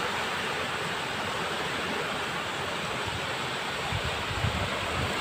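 Sea waves rolling in under stormy weather, a broad continuous roar of surf with slight surges, steady and fairly loud, no voices present.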